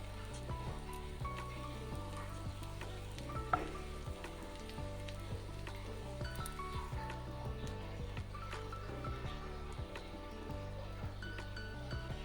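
Bread pieces fry in hot ghee over medium heat, giving a soft, continuous sizzle with faint crackles under background music.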